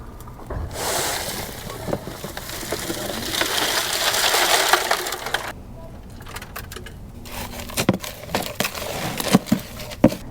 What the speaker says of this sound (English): I'm gonna dump that agave soil in here and just kind of mix it in there.